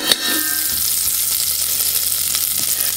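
Butter melting in a 3-quart Instant Pot Duo Mini gives a steady, close sizzle and crackle that runs unbroken for a few seconds, with a brief louder pop at the start and no talking.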